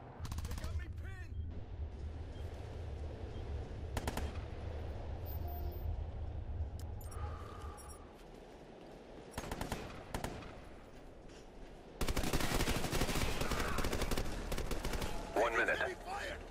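Heavy automatic gunfire from a Ghost Recon Future Soldier firefight, with sustained rattling bursts and a rumbling backdrop, then a brief lull, scattered shots and a loud dense volley near the end.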